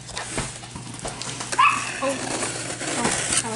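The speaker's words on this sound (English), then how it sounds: "Oh, I locked the dog out." A dog that has been locked out whimpers and yips in short, high, brief cries at moderate distance, mixed with household shuffling and low background noise.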